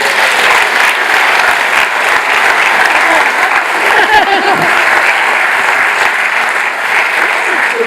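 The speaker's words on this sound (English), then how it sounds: "Give him a huge round of applause." Conference audience at a real estate event breaks into loud, sustained applause, a thick wash of many hands clapping with occasional cheers, steady for about eight seconds.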